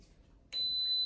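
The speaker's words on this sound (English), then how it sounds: "That beep just means that it's starting to warm up." A single short electronic beep from an Instant Pot as it starts heating, a clean steady tone lasting about half a second after a quiet lead-in.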